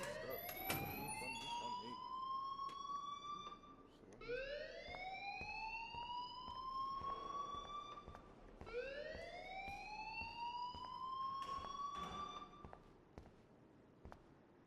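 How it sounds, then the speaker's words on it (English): School fire alarm in the video game Life is Strange, a rising whooping electronic siren that sweeps upward three times in slow repeating cycles, steady and moderately loud with no talk over it. "please turn off that alarm since that's your job"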